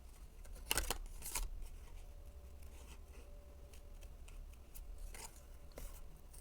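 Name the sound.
scissors cutting paper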